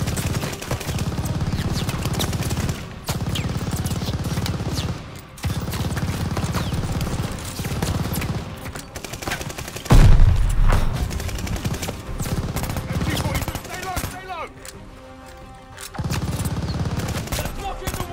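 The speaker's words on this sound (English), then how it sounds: "Enemy machine gun!" Enemy machine gun fire in the Call of Duty Vanguard video game, loud sustained bursts of automatic gunfire with brief gaps and one heavier impact, set amid game combat sounds and shouted voices.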